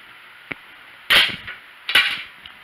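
A turkey-feathered arrow leaves a recurve bow and passes a chronograph: a soft tick, then two sharp snapping releases about a second apart, close and loud in a quiet space.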